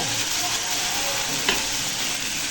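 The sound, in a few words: greens frying and being stirred in a wok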